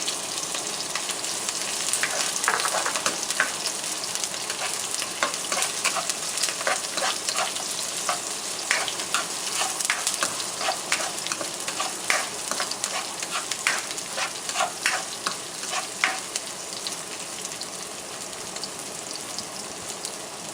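Onions and garlic frying in a hot pan give a loud, steady sizzle with dense crackling pops that run continuously, close by and with no voices over it.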